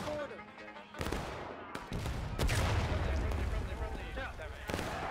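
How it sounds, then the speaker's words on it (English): Musket volley fire in War of Rights during a House Divided campaign battle, several sharp booming shots in close succession, loud and near, with a rumbling crackle of distant fire between them and a voice talking over it. "Get some friendly fire coming in there."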